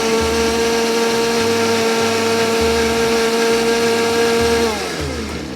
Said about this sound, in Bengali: আমরা আরেকটু ব্লেন্ড করে নিচ্ছি এটাকে